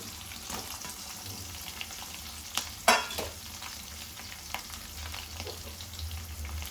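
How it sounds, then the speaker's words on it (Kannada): Chopped onions sizzle in hot oil in a home kitchen, a steady crackling fry with a couple of louder spatters and scrapes of stirring partway through, alone without talk. "ನೆಕ್ಸ್ಟ್ ಈರುಳ್ಳಿ ಹಾಕೋಣ"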